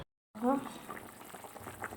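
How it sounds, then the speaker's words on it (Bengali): Fish curry bubbling in a pot on the stove, a soft continuous simmer of popping bubbles that starts after a brief silence and carries steadily to the end. "মাছের ঝোলটা কিন্তু ফুটে উঠেছে"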